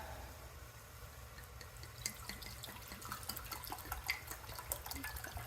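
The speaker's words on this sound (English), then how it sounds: "I'm going to put in my 1 cup of the vinegar." A cup of vinegar is poured into a cooking pot, a soft, faint, steady liquid trickle with small splashy drips, close by and alone without talk.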